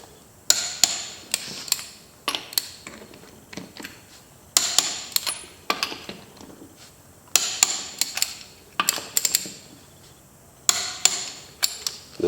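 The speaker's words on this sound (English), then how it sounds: "So same thing, you're just going to torque them in a star pattern." Impact wrench or torque tool working on the wheel nuts of a Suzuki King Quad ATV in a shop, sharp rattling bursts repeating in short groups with pauses between, close and without talk.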